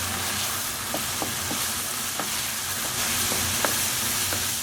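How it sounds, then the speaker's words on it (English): Tomato paste and crushed garlic fry in a pan for chorizo spaghetti bolognese, with a continuous loud sizzle and regular light scrapes of stirring. "we just want to fry that tomato paste as well to get all its flavor out"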